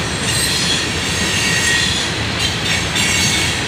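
Norfolk Southern freight train wheels squeal and grind loudly around a sharp curve, a continuous close roar of rail noise with shrill metallic screeching layered on top and no talking.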